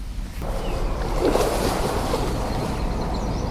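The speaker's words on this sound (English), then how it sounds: "Oh geez, huge splashing. Yeah, there's two big fish right there." Large carp splash in open water outdoors on an early-morning fishing outing: a short, broad wash of splashing rises over steady wind and water noise, then fades back into the ambient rush.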